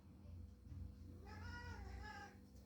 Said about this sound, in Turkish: Kedi mi var?